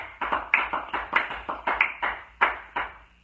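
A church congregation claps in rhythm during a French-language service, producing about a dozen sharp, evenly spaced claps that sound close and lively, with no speech over them.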